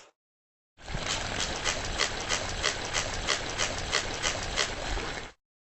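A cartoon dog splashes in water and pants in rhythmic bursts, a busy, close wet sound that runs for several seconds, then cuts off abruptly.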